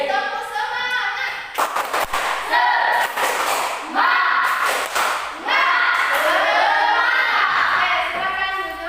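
Schoolchildren in a classroom do a rhythmic spirit clap, sharp loud claps in a patterned sequence while the children chant along between them.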